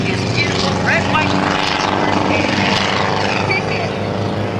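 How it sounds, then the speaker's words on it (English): A helicopter flies at the 2010 Blue Angels Homecoming airshow, its rotor and engine making a steady, loud, continuous roar while a voice talks over it. "He's going to take the helicopter away from airshow crowd"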